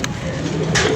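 Pigeons coo softly and close by in a loft where birds are being tended, a low throaty murmur running under steady background noise.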